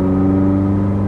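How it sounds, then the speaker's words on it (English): A Mazda3 four-cylinder exhaust drones while driving, a steady low hum with smooth even tones that stays constant and fairly loud for about a second. "I'm not sure if you can hear the exhaust, but"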